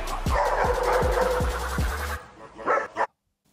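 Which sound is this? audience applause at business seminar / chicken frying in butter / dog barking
dog barking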